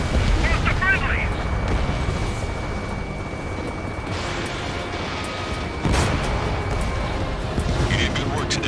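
A missile strike in the combat flight game Ace Combat 7 produces a rumbling explosion and a roaring blast under jet and wind noise, with a burst of static-like radio chatter and a second swell of the blast toward the end.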